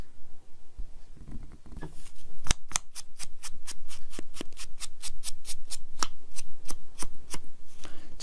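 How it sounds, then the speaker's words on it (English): Scissors snipping zigzag shapes out of paper or fabric: a fast, even series of crisp, close cuts that keeps going for several seconds, with some soft handling noise at the start and no talking. "I think I'm going to cut this where the line is."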